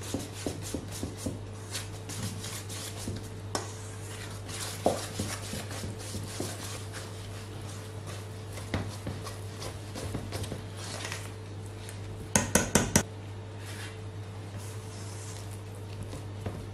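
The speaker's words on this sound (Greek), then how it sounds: "Ανακατεύουμε." Batter of flour and mixture stirred in a bowl in a home kitchen, a soft, steady scraping and squishing with occasional sharper clinks of utensil against the bowl, close and fairly quiet over a constant low hum.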